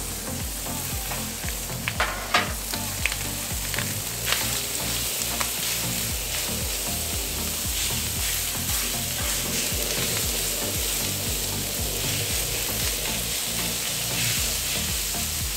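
Carne asada sizzles steadily on a Pit Boss four-burner griddle, searing in rendered bone marrow fat, with a loud continuous fry and scattered scraping or turning sounds close by, no voices.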